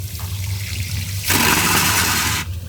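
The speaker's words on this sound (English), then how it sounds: "How do I flush?" A toilet on a long-distance bus travelling from Lima to Cusco, Peru, flushes with a loud rushing burst of water lasting about a second, set against a steady low engine hum.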